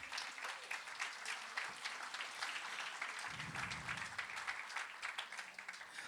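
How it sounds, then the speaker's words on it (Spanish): A church congregation claps together in sustained, fairly distant applause, with a brief voice rising through the middle of the steady patter. "Alguien dale un aplauso a Jesús."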